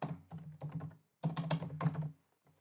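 Rapid clicking keystrokes on a computer keyboard in two short bursts separated by a pause, close and clear with no voices, as text is entered into a search box in Microsoft Teams.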